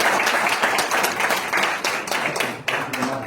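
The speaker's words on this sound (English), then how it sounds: "a big round of applause for everybody here in this room" Applause from an audience at an international summit held at United Nations headquarters, a dense steady round of clapping with some individual hands standing out, holding at an even level for a few seconds and dipping briefly near the end.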